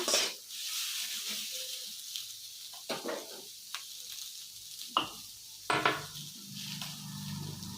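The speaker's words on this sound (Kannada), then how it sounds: "ಈ ರೀತಿ ಫ್ರೈ ಮಾಡ್ಕೊಳ್ಳೋಣ" Potatoes frying in a pan for dhaba-style aloo bhuna, a steady loud sizzle with repeated scrapes and clinks of a spoon stirring against the pan.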